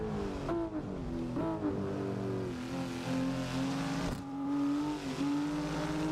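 A car engine in the racing simulator Assetto Corsa, droning and rising in pitch through several revs with shifts in between, steady and continuous, with faint tire noise underneath.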